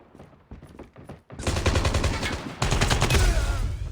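Gunfire in the mobile shooter Call of Duty Mobile, loud and close. A few sparse shots give way to sustained rapid automatic bursts, with no talk over them.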